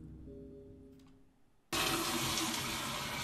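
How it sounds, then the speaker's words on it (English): A toilet flushes in a restroom stall, bursting in suddenly and loudly after a quiet stretch with a faint hum, then roaring on steadily. "The fucking flush noise made me jump"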